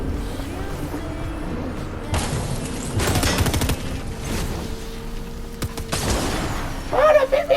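Gunfire from the video game Fortnite, with bursts of sharp shots and rapid fire spread through the clip over steady game noise, with a short stretch of talking near the end.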